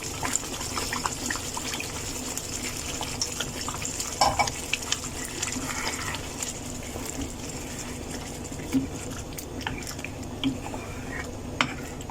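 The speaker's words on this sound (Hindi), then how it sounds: "तो इसमें अब हम 1/2 कप पानी ऐड करेंगे।" Water is poured into frying masala for raw banana kofta curry, giving a continuous sizzling, bubbling hiss with stirring and scraping clicks throughout, close and moderately loud, with no voices.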